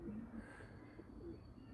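Pigeons in a loft coo in low, soft, rolling calls, a few repeated phrases close by over a quiet background murmur.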